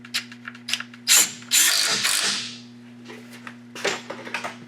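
A ratchet tightening a 10mm brake hose bracket bolt on a 2007 Chevy Silverado, rapid close clicking bursts with a longer whirring spin in the middle, then more short ratcheting runs.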